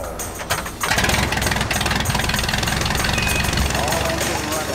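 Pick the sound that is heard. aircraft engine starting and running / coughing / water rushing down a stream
aircraft engine starting and running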